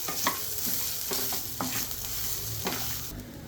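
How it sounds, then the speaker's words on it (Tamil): Grated coconut is lightly sautéed in a pan, with a continuous close sizzle punctuated by several sharp scrapes and clicks of a spatula stirring against the metal. "லைட்டாக ஒரு வதக்கு தான், தேங்காவை போட்டு ஒரு வதக்கினேன்"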